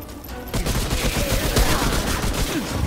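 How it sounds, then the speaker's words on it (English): Grenade blasts and gunfire in the co-op shooter Remnant: From the Ashes, a dense, loud barrage of booms and rapid shots that keeps going without a break. "Was there a grenade guy behind me? Because I'm getting fucking bombed"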